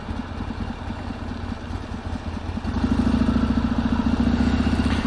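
A stock Harley-Davidson XR1200 motorcycle idles close by with a lumpy, uneven thumping rhythm, then its note rises and steadies into a louder, smoother throb partway through.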